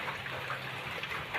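Rain falling steadily during a rainy-season downpour outdoors, a soft, even hiss with faint scattered drop patters, fairly quiet and continuous throughout the brief stretch.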